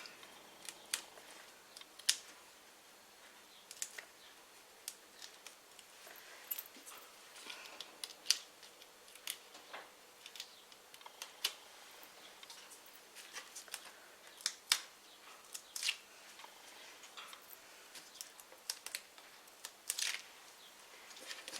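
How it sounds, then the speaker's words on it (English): Backing strips being peeled off adhesive pieces on a handmade card, a quiet run of sharp crackles and ticks scattered irregularly over a near-silent background, close by. "So let's pull all these backings off."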